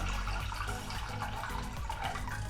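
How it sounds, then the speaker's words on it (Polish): Water is poured steadily into a pot for cooking herring, a soft continuous splashing and trickle at low level with no voices. "Bierzemy teraz wodę, wlewamy do rągla czy też garnka."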